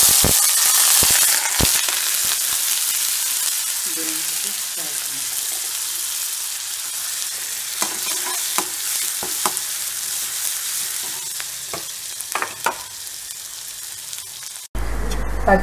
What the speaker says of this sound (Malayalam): പച്ചമുളക്, ഇഞ്ചി, കറിവേപ്പില ഇതെല്ലാം ചെറുതായിട്ട് അരിഞ്ഞ് വഴറ്റിയതിന് ശേഷം